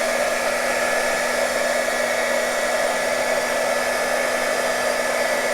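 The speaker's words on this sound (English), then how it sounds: "So I hold my heat gun pretty close to the wax." A heat gun blows steadily at close range over beeswax being melted for a junk journal cover, a continuous loud whooshing hum with a faint steady tone and no talk.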